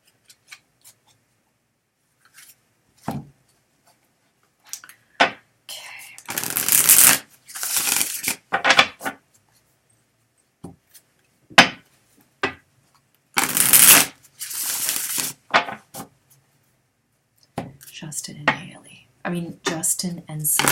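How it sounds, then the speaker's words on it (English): Tarot cards are shuffled by hand in repeated quick riffling bursts, some short and some lasting a second or more, close and crisp. Soft speech is heard between the bursts. "I'll get my cards out."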